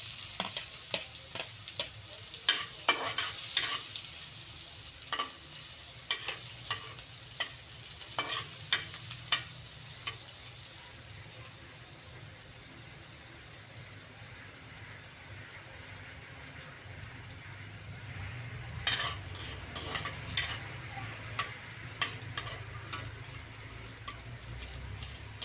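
Garlic sautéing in a pan for batotoy guisado, with a faint steady sizzle under repeated light scrapes and clicks of a spatula, busier at the start and again later, heard close with no talking.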